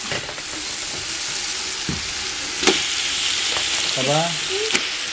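Onion, tomato and ginger paste fries in a pan with a steady, close sizzle, broken by a few scraping stirs and brief clinks partway through.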